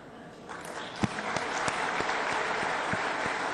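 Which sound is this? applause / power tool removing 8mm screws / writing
applause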